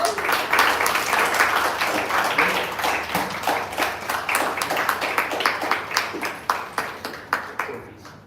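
Audience applause for the judges at a corporate employee speech contest: full clapping at first that thins into sparser, distinct individual claps as it fades toward the end.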